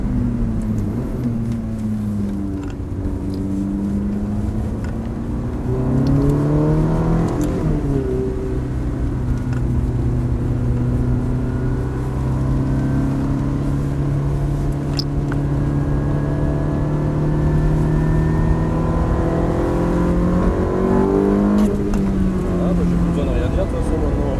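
A Ferrari F430 accelerates on the Lohéac race track. The engine drones and climbs through the gears with steady revving, and voices talk over it inside the car.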